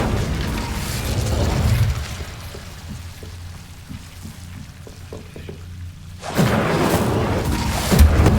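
Incendio fire spell bursting in the Hogwarts Legacy video game: a loud rushing flame roar that fades into quieter clicks and rustles, then surges back abruptly with another heavy fiery burst.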